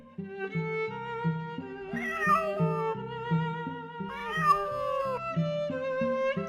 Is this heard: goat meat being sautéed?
no